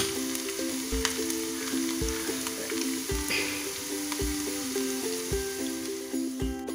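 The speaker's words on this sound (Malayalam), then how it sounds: "ഇതിൽ ഉള്ളി ഇട്ട് കൊടുത്തിട്ടുണ്ട്. ഇനി ഉള്ളി മൂത്ത് കഴിയുമ്പോൾ നമുക്ക് മുളകും വേപ്പിലയും ഇട്ട് കൊടുക്കാം." Onions fry in hot oil for a lentil and taro leaf curry, giving a constant soft sizzle close up, with a faint rhythmic tonal background running beneath it.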